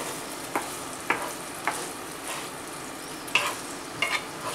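Pasta with pancetta and peas tossed in a pan: a soft, steady sizzle runs underneath while separate clatters of food being flipped and stirred come every second or so, close and moderately loud, with no talking.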